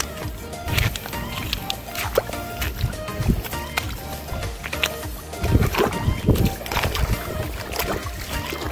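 Seawater splashes and gurgles in scattered bursts as a freshly caught sea creature is set back into shallow sea water while foraging for seashells on the shore at Sabang, Morong, Bataan.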